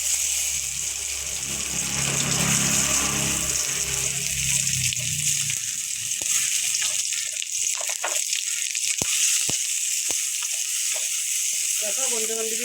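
Boiled, peeled potatoes dropped into hot oil with nigella seeds, a loud steady sizzle and bubbling fry that settles into softer crackling with scattered stirring clicks.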